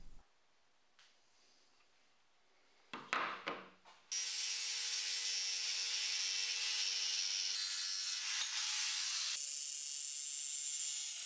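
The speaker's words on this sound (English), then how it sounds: "The jigsaw produces a bit of a rough edge" A jigsaw cuts through wood flooring pieces, a few short scraping strokes leading into a loud, steady, close buzzing whine that runs for several seconds without talk.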